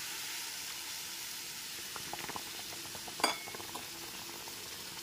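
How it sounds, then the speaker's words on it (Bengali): Sugar and water being stirred together in a pan for raw mango murabba: a steady soft hiss runs throughout, with a faint scraping stir and one brief clear clink of the spoon against the pan midway. "জলটা দিয়ে খুব ভালো মতো মিশিয়ে নিচ্ছি"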